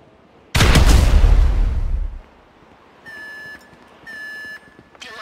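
A loud explosion booms in a GTA V heist mission and rumbles for about two seconds, then an electronic alarm sounds in three short repeating bursts.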